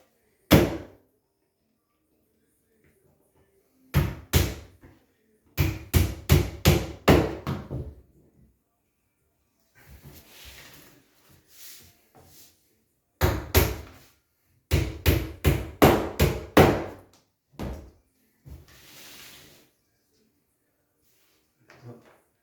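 Nails are driven into the column of a wardrobe-style closet unit with a hammer, in close, loud bursts of rapid repeated blows separated by pauses.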